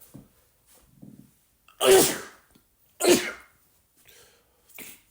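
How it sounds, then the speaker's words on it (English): Two sharp, close sneezes about a second apart, loud and abrupt, with faint breaths and small throat sounds around them. "after I sneezed"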